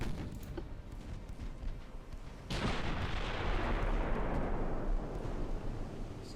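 Heavy naval gunfire from big battleships in Ultimate Admiral Dreadnoughts, 1920 campaign with 14-inch guns: a deep rumbling boom swells midway and rolls on as a long, loud roar over a steady low background.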